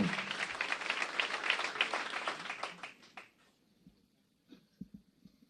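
An audience at a rally for democracy applauds loudly for about three seconds, then the clapping thins out into a few scattered claps and quiet.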